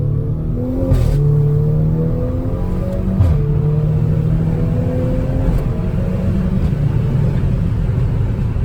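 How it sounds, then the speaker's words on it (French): Volkswagen Golf 6 R Stage 2+ exhaust roaring under acceleration, rising through gears with brief dips at each shift, a loud continuous drone heard from inside the car. "Ah là là, l'échappement."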